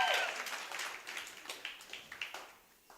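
Scattered audience clapping at a business workshop and expo welcomes a guest, starting fuller and thinning into a few sparse, uneven claps that fade toward the end.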